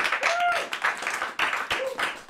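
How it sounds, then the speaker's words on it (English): A small group in a recording studio gives a short round of applause, with scattered claps and a couple of whooping voices over about two seconds. "A round of applause, actually"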